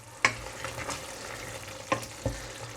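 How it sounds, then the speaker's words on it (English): Magro con tomate, a Spanish pork stew from Murcia, is stirred in a pan, with a few sharp utensil scrapes and knocks against the pan over a low, steady simmer. "I've been giving stirs every now and again"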